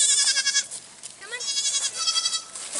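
A farm goat bleats loudly and close by in several wavering, nasal calls, with short pauses between them and no talking.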